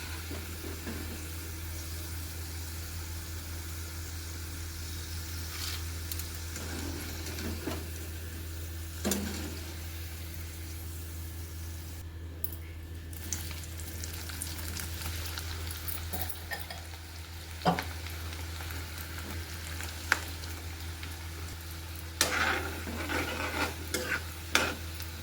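Cauliflower 65 frying in hot oil gives a steady, close sizzle and crackle, with scattered scrapes and clinks of a utensil stirring the pieces over a constant low hum.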